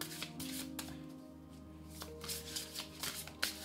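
Tarot cards shuffled by hand at close range, a run of soft riffling flicks and slaps with short pauses, alone with steady low background hum.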